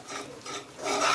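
Gram flour and ghee being stirred in a pan for Mysore pak, a continuous gritty scraping and rubbing that swells louder toward the end, with no voices.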